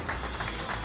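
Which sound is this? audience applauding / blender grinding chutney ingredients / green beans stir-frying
audience applauding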